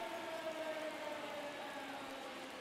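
A steady, wailing home run siren from the baseball game MLB The Show 23, heard faint and continuous over low crowd-like noise.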